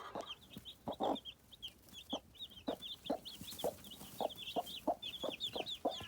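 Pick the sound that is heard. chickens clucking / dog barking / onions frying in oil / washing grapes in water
chickens clucking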